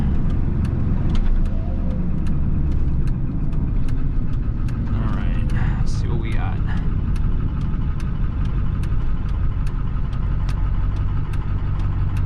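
A 7.3L Powerstroke diesel truck with a custom chip tune makes a right turn on a South Florida road, its steady, rumbling engine drone heard continuously from inside the cab with a faint voice briefly mixed in.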